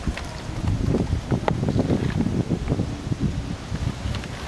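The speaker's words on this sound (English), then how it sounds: "it is so windy" Strong wind buffeting the microphone in low rumbling gusts, with rustling noise throughout and no voices.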